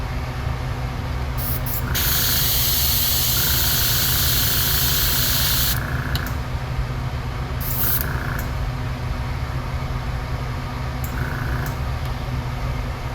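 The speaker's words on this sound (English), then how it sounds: "When you're using an airbrush" An airbrush sprays paint onto a gold spoon being refinished, with loud hissing bursts, one long burst of several seconds and a few shorter puffs, over a steady low compressor hum.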